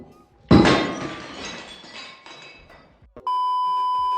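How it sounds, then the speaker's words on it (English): A tasting glass shatters during a bourbon tasting: a sharp crash followed by a scattering of glass pieces that fades over a few seconds, then a steady electronic tone. "Glass number 1 got broken."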